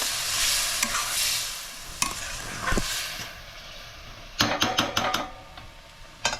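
Bengali-style crab curry masala frying and being stirred in a pan. A soft, continuous sizzle runs underneath, and several sharp scraping clatters of the spoon against the pan come in quick bursts, especially near the end.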